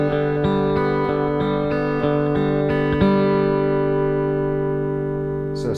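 Hybrid picking pattern on the 4th, 3rd and 2nd strings of an electric guitar with effects, distortion and reverb. Even, rapid repeating picked notes ring into one another, close and sustained.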